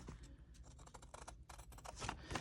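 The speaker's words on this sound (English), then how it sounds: "And then we'll take our scissors and we'll just trim." Scissors snip and scrape through the paper of a handmade CD envelope in quick, close, quiet cuts and rustles, with a low background rumble.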